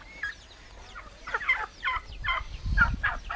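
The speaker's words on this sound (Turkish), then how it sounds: "Culuk değil mi bunlar?" Turkeys in a garden gobble in several short, rattling bursts, moderately close, with a soft outdoor background and a faint low rustle near the end.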